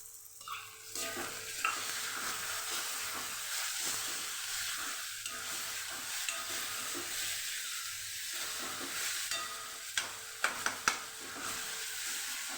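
Tomatoes and green onion cooking together in a pan for a Kathiyavadi green-onion lotiyu curry, a steady sizzle and hiss broken by repeated stirring scrapes and a few sharp clacks near the end.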